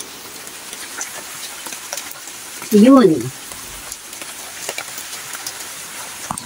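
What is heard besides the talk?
rain falling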